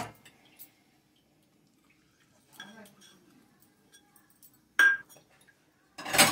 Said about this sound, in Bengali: এবার আমি এটা মিক্সিং করে নেবো ভালো করে।